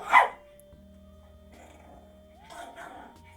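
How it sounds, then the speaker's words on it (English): Several dogs bark loudly in one short burst close to the microphone at the start. A steady low hum continues underneath, and later there are faint scattered rustling sounds in a quiet indoor room. "I'm sorry about my dogs barking."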